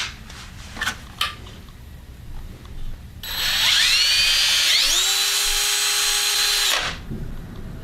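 A DeWalt hammer drill shifted into a higher gear winds up loudly to a steady high whine, holding for about three seconds before spinning down, after a few light clicks and taps beforehand.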